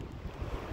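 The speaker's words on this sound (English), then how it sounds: "It's windy as all hell." Strong wind buffets the microphone at Kirkwood ski resort while light snow falls, a loud, continuous low roar that gusts up and down with no voices.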